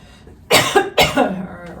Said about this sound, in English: I'm going to keep coughing here